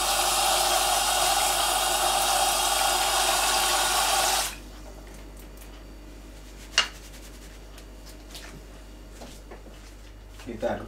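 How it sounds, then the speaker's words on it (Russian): Pork feet being rinsed under a kitchen tap: a steady, close stream of running water for about four seconds, then it stops, leaving quiet room tone with a couple of faint clicks and knocks. "надо очень тщательно помыть окорочка, копытца в проточной воде под краном"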